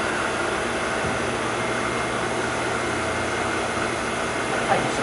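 Okuma MC-40VA vertical machining centre spindle running at 4,000 RPM gives a steady, even whir with a faint high whine, constant and unbroken throughout at moderate level.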